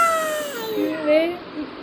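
A one-year-old child imitates a cat's meow with a drawn-out, wavering, high-pitched vocal mew, close and alone, following an adult's prompt.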